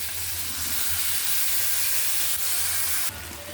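Spices sizzle and hiss steadily in a hot pan while being stirred for a tomato chutney, a dense close frying noise with low stirring thumps, easing slightly near the end.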